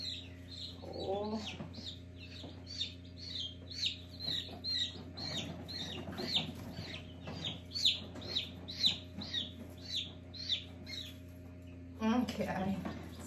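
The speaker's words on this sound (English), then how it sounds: "This is the first time these chicks are seeing light, really, outside the incubator." Newborn chicks in a brooder box, fresh from the incubator, peep in a steady stream of high chirps, close and fairly loud, with a few lower clucking sounds and a burst of louder calls near the end.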